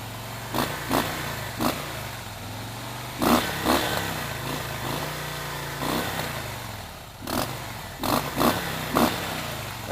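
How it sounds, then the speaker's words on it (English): A Harley-Davidson Softail Slim on stock pipes idles with a deep, loping rumble and is blipped several times, sharp throttle revs rising and falling close by over the steady low idle. "That classic Harley sound, I love it. So yeah, that's the Harley-Davidson Softail Slim stock pipes."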